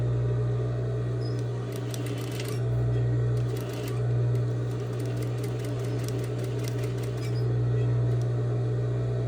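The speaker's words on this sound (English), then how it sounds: "now I'm going to go ahead and sew it, stitching at the beginning and end of the stitch line" A sewing machine stitches a convex curved seam in fabric, its steady close motor hum broken by rapid bursts of needle clatter as it starts, pauses and pivots.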